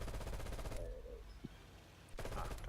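Automatic gunfire from a first-person shooter video game: a loud, rapid burst of shots, a quieter stretch, then another sustained burst near the end.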